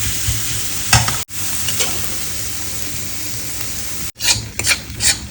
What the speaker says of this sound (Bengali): তাহলে মশলা কষানো হচ্ছে